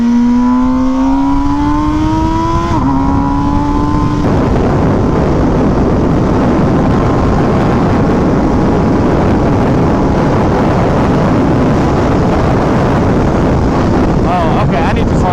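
MV Agusta Brutale motorcycle accelerating hard in first gear, the engine note climbing steadily in pitch and briefly stepping before being swamped by loud, constant wind roar.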